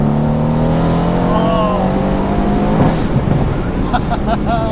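A Mercedes C63s AMG engine of 510 hp drones and rises in pitch through short throttle blips inside the car, with occupants talking over the steady cabin rumble.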